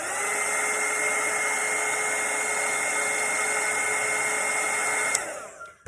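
A hair dryer blows over a watercolour painting with a loud, steady whirring rush that holds unbroken for about five seconds, then cuts off abruptly near the end.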